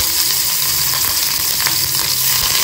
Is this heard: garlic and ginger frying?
yes